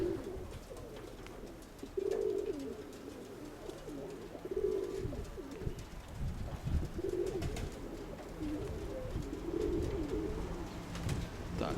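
Low, soft cooing from a nearby domestic pigeon repeats in short phrases, with pauses between calls over a quiet outdoor background.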